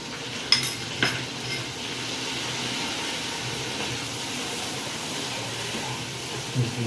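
Onion, ginger-garlic paste and chili being stirred in a hot pan for a Bengali muri ghonto fish-head dish, a steady sizzle with a few sharp spoon scrapes early on, close and continuous.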